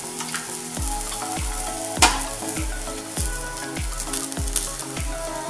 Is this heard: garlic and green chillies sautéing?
yes